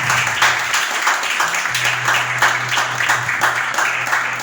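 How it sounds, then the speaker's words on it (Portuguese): Church congregation applauding during a sermon, a steady burst of dense, rhythmic clapping from many hands filling the room, with a low sustained tone underneath. "Aplaude o Senhor Jesus"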